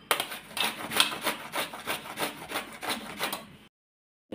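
Raw green mango scraped over a hand grater into long shreds, a close, steady run of rhythmic rasping strokes, roughly three per second, that stops abruptly near the end with no voices.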